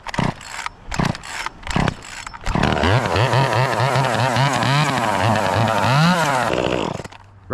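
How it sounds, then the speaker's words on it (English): Small power saw's engine being started: several short pull-cord bursts, then the two-stroke catches and runs loud and close, revving up and down for a few seconds before cutting off. "here's our little power saw"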